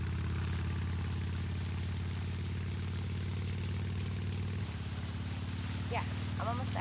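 A motorcycle engine in Resident Evil 2 Remake runs with a steady low throb that shifts slightly in pitch partway through, and a voice briefly speaks over it near the end.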